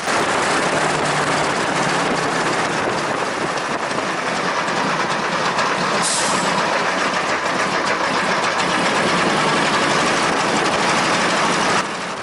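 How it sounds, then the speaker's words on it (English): The air-cooled radial engine of a Westland Lysander aircraft running on the ground, a loud, continuous roar with a rapid rattling pulse, steady throughout and close, with no voices. "it overheats on the ground even though it's a radial engine with air cooling"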